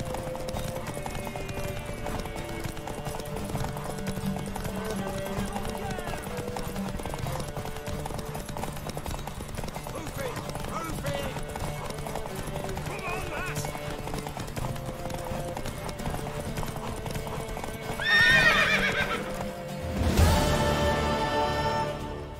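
Rapid hoofbeats of a galloping horse clatter steadily under music and effects in The Witcher 3: Wild Hunt, ending with a loud horse whinny near the end.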